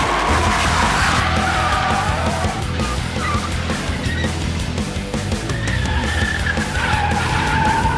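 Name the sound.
Dodge Viper SRT-10 tyres skidding at grip limit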